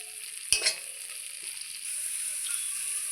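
Masala being stirred and fried in a pan for an aloo, soybean and paneer dish: one sharp spoon knock against the pan, then a steady close sizzle that grows slightly fuller toward the end.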